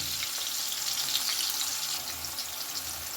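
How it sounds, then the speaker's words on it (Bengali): Young sweet pumpkin pieces fry in a pan for a Bengali chorchori dish, a steady close hiss of oil with faint stirring scrapes and no talking. "মিষ্টি কুমড়ো ভালো করে ভেজে নিয়েছি"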